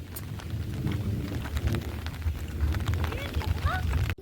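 Steady rain with rumbling thunder in coastal Konkan, at Rajapur near a windy creek, a continuous wash of drizzle over low rolling rumble, with a voice speaking over it.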